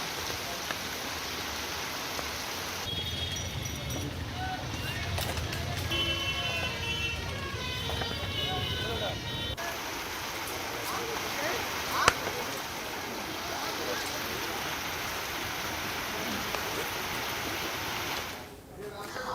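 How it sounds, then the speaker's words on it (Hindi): Heavy rain pours near the Araria bus stand, a steady wash of falling water with passing road traffic, continuous and moderately loud while a voice talks over part of it. "तस्वीरों में आप देखिए कि झमाझम बारिश से अररिया बस स्टैंड के पास जलजमाव भी हो गया है।"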